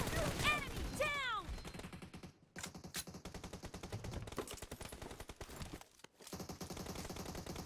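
Automatic gunfire in PUBG, rapid bursts of shots crackling loud and close, with a brief pause before more sustained firing fills the rest of the stretch.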